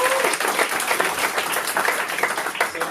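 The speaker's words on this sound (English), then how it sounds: "Can we just have a round of applause for Harry" A comedy club audience applauds warmly, a dense, steady wash of clapping from a crowd that holds at even volume throughout.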